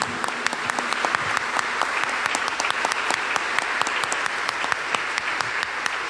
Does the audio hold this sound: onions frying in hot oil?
no